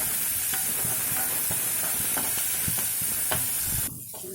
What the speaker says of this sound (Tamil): ஒரு வெங்காயம் சின்னதாக தூளாக கட் பண்ணி வச்சுருக்கேன் அதை சேர்த்துக்கலாம் சேர்த்து லைட்டாக கொஞ்சம் இதை வதக்கி விட்டுக்கலாம்